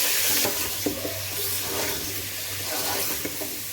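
Mutton pieces hitting onions frying to light golden brown in a pot for Kabuli pulao, giving a steady close sizzle with stirring scrapes and a low hum underneath.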